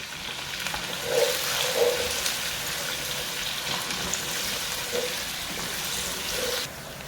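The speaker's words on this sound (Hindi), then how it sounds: "अब मैं इसमें प्याज ऐड कर रही हूँ। हमने प्याज को ब्राउन कर लेना है।" Onions browning in hot oil for a spicy chicken biryani give off a steady, close, broad sizzle with a few soft bumps, and no one speaks.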